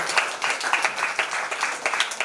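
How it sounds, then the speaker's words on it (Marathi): An audience at a school felicitation ceremony for meritorious students claps to welcome a guest, a quick, fairly close burst of many hands with uneven rhythmic peaks. "सर्वांनी टाळ्या वाजवून त्यांचं स्वागत करायचं आहे"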